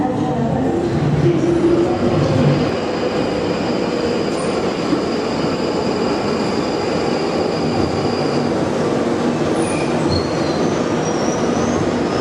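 A London Underground train runs through a tunnel, a loud continuous rumble of rolling wheels with rattling and occasional high metallic squeals, heard close from inside the carriage.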